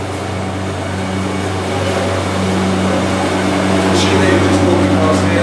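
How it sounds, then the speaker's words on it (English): A juice-cooling machine at a winery during the 2011 vintage at Coume del Mas runs with a steady, loud, continuous hum and a low tonal drone, with a few brief higher clicks partway through. "Machine that you're just walking past here is for cooling down."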